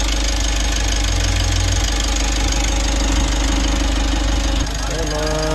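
A car engine starts and settles into a steady, loud idle after its EGR valve and intake manifold were cleaned of thick carbon buildup, with a continuous rumbling hum throughout and a slight shift in tone near the end.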